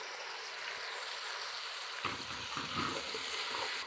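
Garlic and ginger paste frying in a pan, a soft steady sizzle that turns louder and busier halfway through, like something stirred or added, with no voices.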